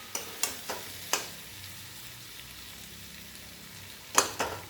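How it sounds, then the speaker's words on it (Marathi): Pumpkin vegetable cooking in a pan is stirred with a spoon, making sharp scraping knocks against the pan in two short clusters over a soft steady sizzle. "सुरुवातीला हलवून घ्यायची आहे"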